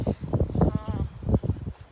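Bees and other insects buzz in a community vegetable garden among potato plants, a steady busy drone close by with faint low rumble underneath.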